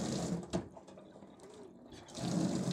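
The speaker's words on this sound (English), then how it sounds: "I'm just dunking it in some cold water just to kind of start it again" A pan of hot chocolate is dunked into cold water, giving a soft splash and sloshing of liquid with a brief clatter, quiet and close, fading then swelling again with running water.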